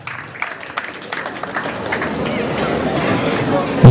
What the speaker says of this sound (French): Il peut se lever sous nos applaudissements.